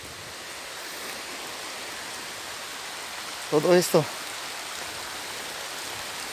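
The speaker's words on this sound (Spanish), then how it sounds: "que es el río Mixteco en Huajuapan." The Mixteco river flowing in Huajuapan, a steady soft wash of running water throughout, with a brief spoken phrase in the middle.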